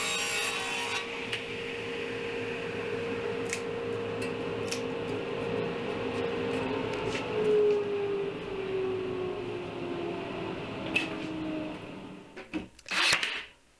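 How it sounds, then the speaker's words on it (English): A saw cuts through plywood for a bench top with a steady, continuous rasping drone over about twelve seconds, then stops with a few knocks and clatters of the workpiece at the end. Nothing else is heard. "Now I'm going to be cutting the plywood for the top of the bench"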